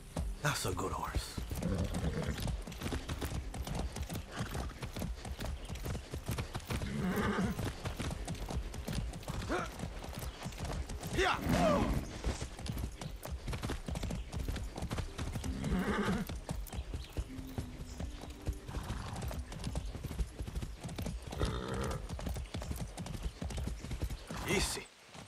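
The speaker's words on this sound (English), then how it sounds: "That's a good horse." Horse hooves clip-clop at a rapid gallop in the video game Far Cry 6, a steady rhythm running throughout with a whinny, under game music and occasional voices.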